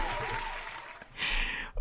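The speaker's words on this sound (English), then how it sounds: "Round of applause for Sun Pump." Short burst of applause and cheering from a crowd, broadband and dense throughout, swelling louder near the end before cutting off.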